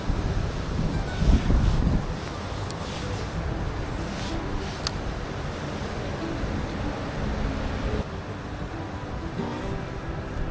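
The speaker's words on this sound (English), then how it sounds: "Wind, man, wind. Such a pain in the ass." Wind blowing outdoors beside a canal in winter, a steady roaring rush buffeting the microphone, strongest in a gust at the start and then holding at an even level.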